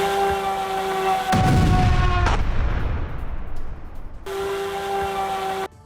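Two heavy explosions from a Russian kamikaze drone strike on a Ukrainian weapons depot boom out one after the other over a steady droning hum, leaving a rumbling tail before the hum returns.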